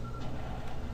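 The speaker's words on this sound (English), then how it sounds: "It's beeping. It's going faster." A timed explosive in the video game Cortex Command gives off a steady electronic beep, a thin tone repeating over a dense background rumble.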